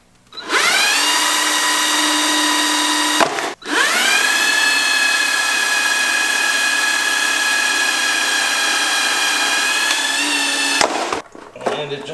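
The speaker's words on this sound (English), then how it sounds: "I have to drill out these 2 nutserts that hold the Snorkel in" A power drill drills out two nutserts holding the snorkel to the air box of a 2018 Jeep Wrangler with a 3.6-liter engine, running as a loud, steady whine in two long bursts with a brief pause between.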